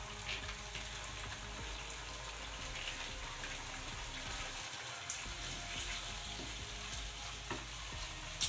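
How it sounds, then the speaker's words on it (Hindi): Butter and masala sizzle steadily while white karahi is fried and stirred in the pan, a continuous close crackling hiss with occasional scrapes and no voices. "केस करके हम इसे भूनेंगे और साथ ही में हम डाल देंगे ये बटर"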